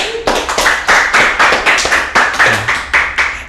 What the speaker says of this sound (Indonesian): tepuk tangan untuk Pak Elias